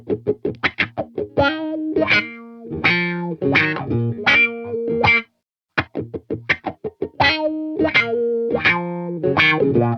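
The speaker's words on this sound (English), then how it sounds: "That is your classic wah-wah sound." Electric guitar chords through a VOX V863-CA wah pedal in manual mode, sweeping the tone between dark and bright, played in rhythmic bursts with a brief pause midway.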